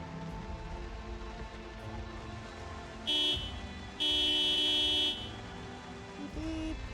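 Two loud car horn blasts in a zombie video game, a short toot followed by a longer steady honk, sounding over a low rumbling background of engine and ambient noise.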